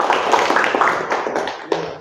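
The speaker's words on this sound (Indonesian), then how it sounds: "Oke, tepuk tangan buat kalian semua." A classroom of students claps steadily for a teacher, a dense run of close handclaps that eases off toward the end, ending with one sharper clap.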